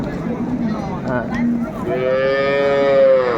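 Sahiwal cattle moo nearby in long, drawn-out low calls, one after another, over the murmur of a crowd at Raniganj cattle market, Dinajpur.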